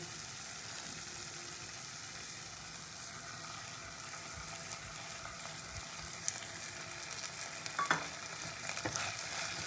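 Spiced masala frying in a pan as kasundi mustard sauce is stirred in for a Katla fish dish, giving a constant close sizzle with scraping stirs and a few utensil knocks toward the end, no voices.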